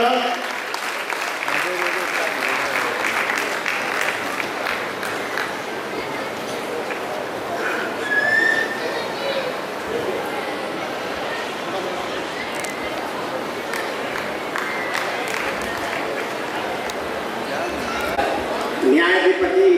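Steady applause from a ceremony audience welcoming a guest at an honours event, continuous clapping throughout with voices talking over it.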